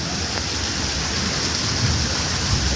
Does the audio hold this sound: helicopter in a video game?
no